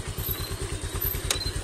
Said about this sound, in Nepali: केटाहरू एउटा बाइक आइपुग्यो